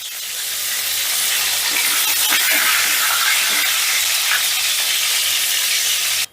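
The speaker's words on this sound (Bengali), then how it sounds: "এবারে ওই তেলের মধ্যে ভেজে নিচ্ছি আলুগুলো" Large potato pieces fry in hot oil with a loud, continuous hiss and sizzle that swells in the first second, then holds steady up close until it cuts off abruptly. No voices.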